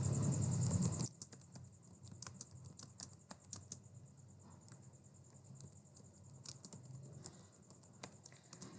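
Rapid, uneven clicking of computer keyboard keys while code is typed, close and steady at moderate volume, opening with a brief louder burst before settling into continuous typing.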